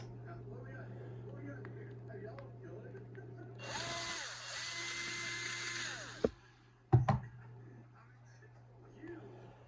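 A power screwdriver spins out the small Phillips screws holding the pull start on a 1996 Nitro Stampede's Pro .15 nitro engine, one short buzzing run at close range, followed by a couple of clunks and handling noises under a faint background hum.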